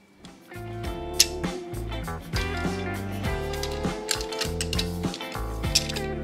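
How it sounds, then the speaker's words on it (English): Metallic clicking and rattling as a garage door opener trolley slides onto the end of its track, a busy run of ratcheting mechanical clatter over several seconds with no speech. "I'm gonna go ahead and slide the trolley onto the end of the track."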